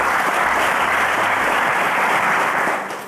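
A quiz show studio audience bursts into dense, loud applause that holds steady for about three seconds before starting to fade.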